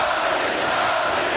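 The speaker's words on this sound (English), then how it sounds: "Here the crowd getting on his side." A dense, steady roar from a UFC arena crowd during a flyweight bout fills the whole short stretch, loud and continuous with no gaps.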